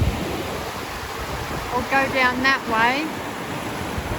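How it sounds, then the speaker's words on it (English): Steady broadband rush of an alpine stream flowing down from a waterfall in Val Venosta in the Alps, continuous and fairly close, with a person talking briefly over it midway. "lovely flowing stream that's coming down from that waterfall"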